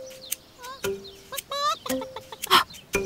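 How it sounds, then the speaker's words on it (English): Cartoon chickens on a farm cluck in a quick, uneven string of short, chattery bursts and rising squawks, close and lively with no one speaking. "That was one of Moo's chickens clucking."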